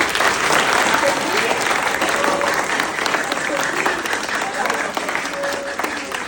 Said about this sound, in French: Merci à Monsieur Machata aussi qu'on applaudit très fort